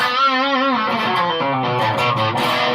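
Electric guitar through a mild distortion plays a sustained, slightly gritty melodic line with sliding bends, close and steady, alone with no talk.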